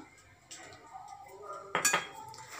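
A utensil clinks and scrapes against a bowl as a salad of chard, tuna, corn and mayonnaise is mixed, soft repeated knocks with one sharper clatter near the end, close by with quiet speech underneath.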